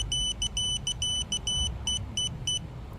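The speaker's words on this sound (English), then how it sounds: "Those 3 beeps let you know that this guy is ready." A small drone's arming beeps repeat in quick, evenly spaced high electronic pulses over a low background rumble, close by.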